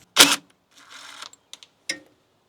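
A metal nut dropped on a Case 580 Super L backhoe lands with a sharp, close clack, followed by a brief rattle and a few small ticks as it settles.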